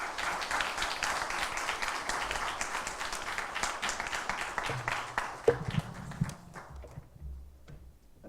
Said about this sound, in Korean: 나오실 때 여러분 큰 박수로 격려해 주시면 고맙겠습니다